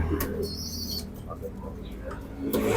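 Racing pigeons at a loft coo softly in low, murmuring bursts near the start and end, with a faint higher whistle-like tone briefly in between over quiet background noise.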